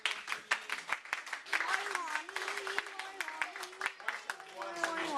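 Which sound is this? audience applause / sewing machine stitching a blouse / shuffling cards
audience applause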